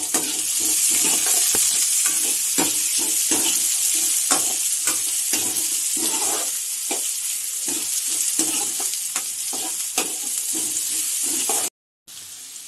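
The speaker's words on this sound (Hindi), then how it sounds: "हम प्याज डाल देंगे, इसको अच्छे से भूनने देंगे।" Onions sautéing in hot oil for kadi, with a dense, continuous close-up sizzle broken by frequent scraping stir strokes. The sound cuts out briefly near the end, then resumes more quietly.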